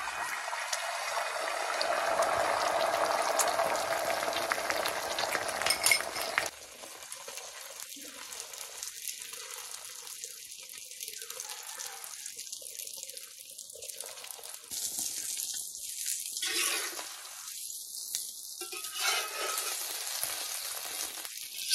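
Beaten egg for an omelette frying in hot oil in a pan, giving a loud continuous sizzle at first that drops to a quieter crackle with intermittent bursts of spitting.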